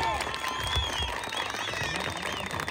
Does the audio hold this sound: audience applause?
yes